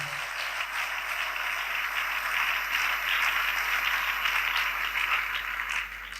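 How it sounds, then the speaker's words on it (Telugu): A church congregation claps loudly and steadily in praise during a Christian worship service, producing a dense, sustained wash of applause that continues for several seconds and then begins to fade. "చప్పట్లు కొట్టి దేవుని మహింపరుద్దాం గట్టిగా"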